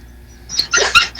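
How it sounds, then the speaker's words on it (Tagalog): An excited dog barks and whimpers in a short burst of yips, two louder bursts close by, with no talk over it. "Nako. Tuwang-tuwa yung aso eh."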